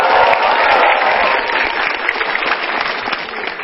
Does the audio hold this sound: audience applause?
yes